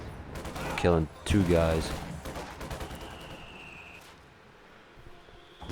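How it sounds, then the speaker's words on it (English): Machine-gun fire during a World War II-style strategy game battle, with rapid bursts of gunshots and explosive cracks, while a voice talks over the first half before the fire trails off into quieter background combat. "as you can see, the enemy's got machine guns in this building"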